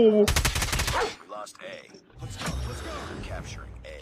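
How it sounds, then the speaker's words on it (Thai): Call of Duty gunfire opens with a rapid, loud burst of automatic shots lasting about a second, followed by quieter scattered shots and game noise, with a voice talking over it. "มันยิงไม่หยุดเลย"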